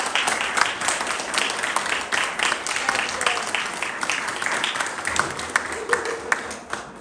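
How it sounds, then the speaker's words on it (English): A Rotary club audience in Costa del Sol, Spain claps to honour a Guinness world record holder, with steady, dense applause running throughout and some voices mixed in. "Give her a round of applause."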